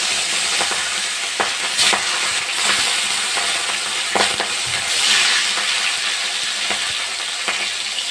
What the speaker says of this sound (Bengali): তেলটা গরম হয়ে গেছে, মাছগুলো ভেজে নেব